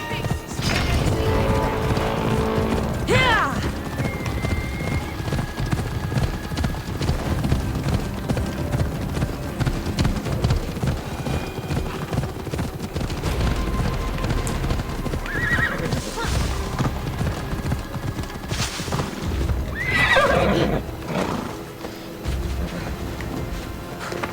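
A horse gallops and neighs in Assassin's Creed Odyssey, with steady rapid hoofbeats running throughout and several loud whinnies standing out against game music and ambience.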